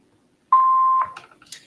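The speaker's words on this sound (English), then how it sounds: "Please leave a message after you hear the beep" Voicemail greeting beep: a single clean electronic tone held for about half a second, loud and isolated in silence, followed by faint handling noise.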